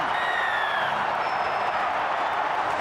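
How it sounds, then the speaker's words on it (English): A small but noisy rugby league crowd cheers and applauds a Manly Sea Eagles try against the North Queensland Cowboys, a steady loud roar of clapping and shouting with scattered whistles and whoops. "it's not a big crowd, but it's a noisy one at the moment"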